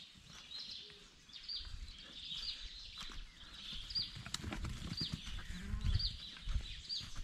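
Sheep bleat repeatedly in an open field, their calls recurring at fairly even intervals from a moderate distance over low rustling and wind noise.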